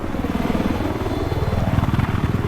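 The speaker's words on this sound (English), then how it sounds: "They're using the helicopter to take the flag." A helicopter flies in the Battlefield 4 video game, its rotor beating in a loud, fast, rhythmic chop close by, continuous throughout.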